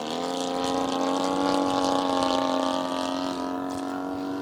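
A small engine on a 77-inch-span RV-8 model airplane drones steadily in flight, a loud buzzing tone with rich harmonics that wavers slightly in pitch, heard alone.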